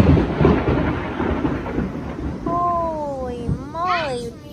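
Thunder from an approaching thunderstorm rumbles loudly over falling rain, followed by a child's high, sliding voice.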